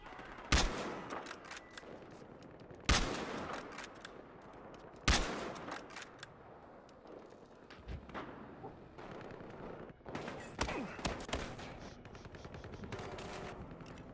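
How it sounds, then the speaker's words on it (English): Heavy gun mounted on an SUV firing in Battlefield Hardline multiplayer, loud sharp blasts at irregular intervals, with bursts of gunfire and rumbling echoes in between. "In an SUV with a heavy gun."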